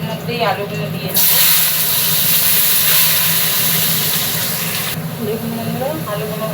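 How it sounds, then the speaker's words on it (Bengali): Potatoes hit hot oil after fish in a Bengali kitchen, setting off a loud, steady frying hiss that swells suddenly and runs for several seconds, with a few faint clinks at the start and end. "দেখুন বন্ধুরা, আলুগুলো ভাজা হয়ে গেছে"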